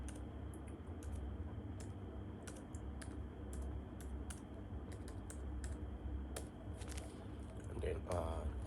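Password being typed on a computer keyboard during a macOS install, with light irregular key clicks over a steady background hum and some faint talk.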